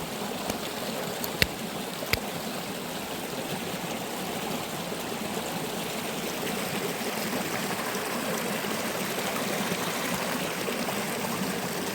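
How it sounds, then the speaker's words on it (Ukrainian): The Kaplyvets waterfall in Yaremche, in the Carpathians, flows into a river as a steady, dense rush of falling water that stays even throughout, with a couple of faint clicks near the start. "Цей водоспад впадає у річку."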